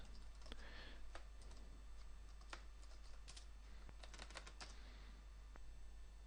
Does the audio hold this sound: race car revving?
no